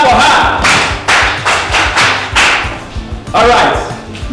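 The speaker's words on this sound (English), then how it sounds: "Clap for her." Audience claps in a few short rhythmic bursts at a comedy show, the sharp clatter repeating close by and loud.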